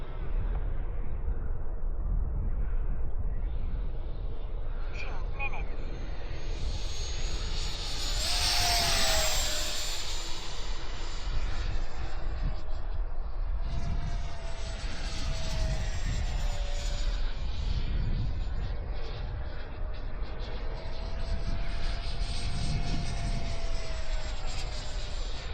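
An H.King L-39 electric ducted-fan model jet flies past, a high whining rush that swells and fades with a clear Doppler sweep, continuous and moderately loud.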